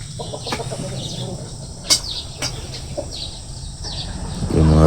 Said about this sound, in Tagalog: Saka meron na akong manok doon sa unahan.